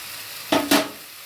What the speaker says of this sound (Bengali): এবার আমি এটাকে টমেটো বাটাগুলো দিয়ে একটু নেড়ে নিচ্ছি, একটু ভাজা ভাজা হবে